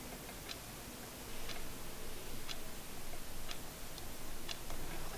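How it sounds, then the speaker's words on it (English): A small decorative clock ticks softly in a quiet room. The faint, evenly spaced ticks come about once a second over a low background hiss, and no voice is heard. "I love the ticking sound"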